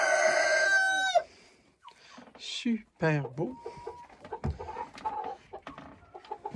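A backyard rooster in a hen enclosure crows loudly up close, then gives short clucks and squawks while someone talks nearby.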